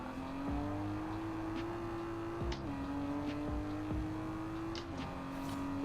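Video game engine note of a 500hp Miata in Forza Horizon 4, a steady high-revving drone with quick dips at each gear change as it climbs through the gears, close and continuous with no talking.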